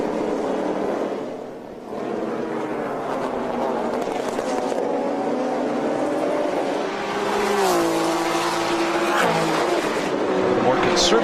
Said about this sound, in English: this great collection of vintage race cars